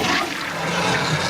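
A toilet flushes in the Sam and Max video game, a short, loud rushing of water that fills the moment alone and up close.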